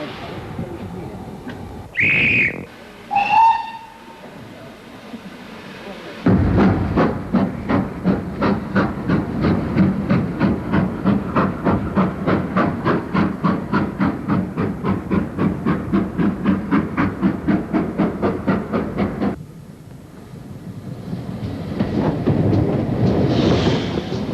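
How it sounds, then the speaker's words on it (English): Heritage steam train standing at Bewdley station, the 3.25 departure to Bridgnorth, giving a couple of short whistle blasts, then a long run of rapid, even exhaust chuffs as it pulls away, ending in a steady hiss of steam. "The train now standing at platform 1 is the 325 to Bridgnorth"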